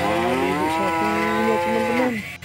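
A toy cow gives a single long, loud electronic moo, close and clear, lasting about two seconds.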